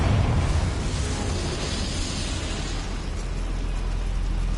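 Blasting spell explosion in the wizarding video game Hogwarts Legacy, a loud, booming blast with a heavy low rumble that fades gradually into a hissing tail.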